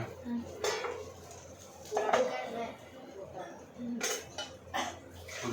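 Clattering pots, dishes and cutlery knock together in intermittent bursts while people talk nearby.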